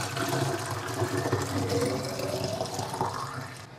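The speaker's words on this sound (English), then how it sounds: "Fill it up with water." Tap water runs steadily into a tomato sauce bottle already holding salt and rock salt, a continuous splashing, gurgling fill that stays close and even throughout.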